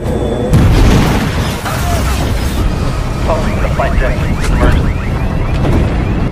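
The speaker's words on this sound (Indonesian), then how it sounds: "Tiba-tiba mesin pesawat yang dinaiki Aviram dan Al-Masih meledak." An airplane engine explodes in a loud, booming blast near the start, followed by sustained rumbling and crackling debris-like noise that continues to the end.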